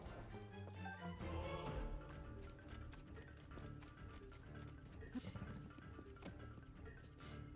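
A horse in the video game Tears of the Kingdom gallops with rhythmic clip-clop hoofbeats under game music and effects, fairly quiet and steady throughout.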